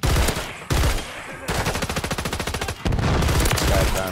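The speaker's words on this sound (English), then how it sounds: "Shots are coming from the roof up here." Rapid automatic gunfire in a multiplayer shooter video game, dense bursts of loud close shots firing in quick rhythmic strings with short pauses between volleys.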